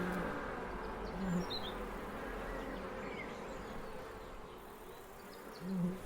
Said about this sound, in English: Never thought I'd be flying on a bee.